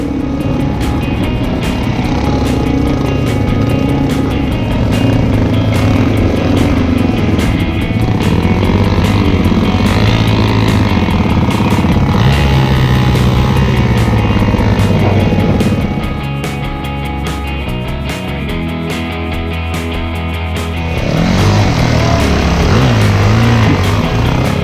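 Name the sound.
motorcycles riding through swamp on Frenchmens track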